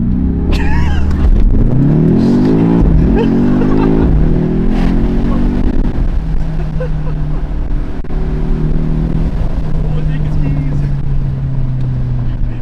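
A twin-turbo V8 hybrid car's engine revs hard and climbs in pitch as it launches, then settles into a steady loud drone, with voices over it.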